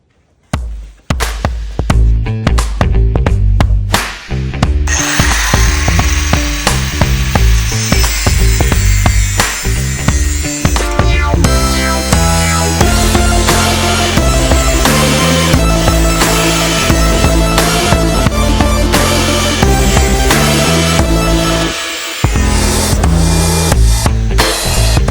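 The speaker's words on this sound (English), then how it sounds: "I have to take this piece and I have to cut a bevel down along this edge" A power tool grinds a bevel along a metal edge in preparation for welding, a loud continuous whine that starts after a few brief bursts and runs nearly unbroken to the end.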